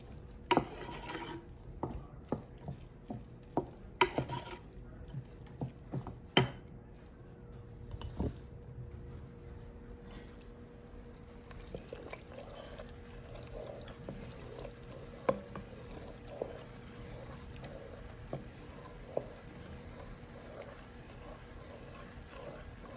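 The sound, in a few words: stirring dark gumbo roux in a big stock pot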